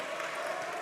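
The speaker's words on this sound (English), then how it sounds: "She'll check out to a round of applause." Steady applause from a crowd at a girls' varsity high school basketball game as a player checks out, a dense, even patter of clapping at moderate loudness.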